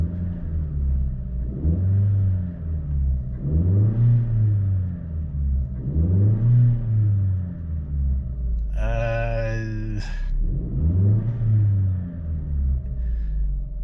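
A turbocharged Chevy Sonic engine with a cold air intake revs repeatedly, rising and falling in a steady rhythm over a low idling rumble, close by.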